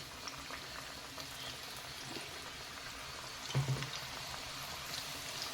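Sweet corn fritter batter frying in hot oil, a steady soft bubbling hiss with a brief louder sputter midway as batter drops in, no talking.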